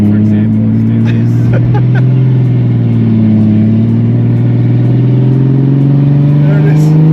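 Single-turbo BMW F80 M3 with 700 hp revving nearby, a loud, steady engine drone that rises slowly in pitch over several seconds.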